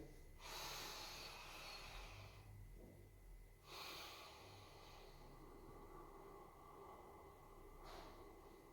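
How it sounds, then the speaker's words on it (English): Slow breathing exercise through the nose using the diaphragm, with the exhale twice as long as the inhale: soft airy inhales and long drawn-out exhales repeat alone, close and faint. "But you exhale 2 times as long as your inhale."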